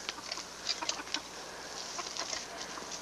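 Chickens on a home farm cluck faintly in a few short bursts, with soft scratchy rustling between the calls.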